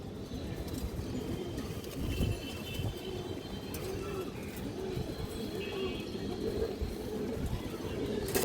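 Old-line pigeons keep up a steady stream of rolling, arching coos, several birds overlapping close by at a moderate level, without pause.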